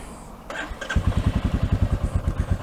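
A Royal Enfield Meteor 350 motorcycle engine cranks briefly, then catches and settles into a lumpy, throbbing idle, close by.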